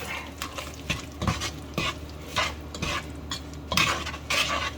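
Crab boil seasoned with black pepper being stirred in a pot, with repeated scraping and clinking strokes of a utensil against the metal at an irregular rhythm, close and moderately loud, no talking.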